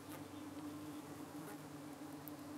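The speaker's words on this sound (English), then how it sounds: "the camera microphone might be able to pick up the noise of the bees fanning" Honey bees fanning inside a hive make a steady, even drone that holds without pause throughout, faint and distant-sounding, with no voices present.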